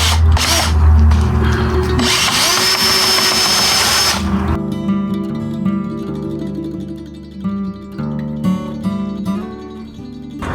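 Power drill driving screws into a chicken wire gate for a dog enclosure, a loud whirring burst up front that cuts off, followed by quieter mechanical clatter and knocking.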